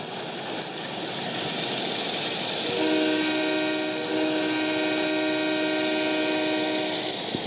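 A Conrail C40-9W diesel freight locomotive rumbles steadily nearby, its horn sounding a long sustained chord partway through over the continuous engine drone.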